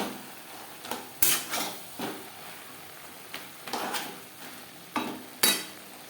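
Snake gourd and prawns stirred with a spatula in a pan over a high gas flame: sparse scraping clinks and knocks a second or so apart over a quiet, faint sizzle, with nobody speaking.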